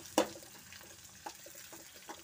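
Green chillies frying in a pan over a stove for a Tamil spinach dish, a soft crackling sizzle with faint stirring and a few sharp scraping clicks, fairly quiet throughout.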